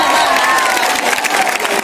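Audience clapping and cheering at a Hindi kavi sammelan poetry gathering in Gaya, a dense continuous burst of close applause with crowd noise throughout.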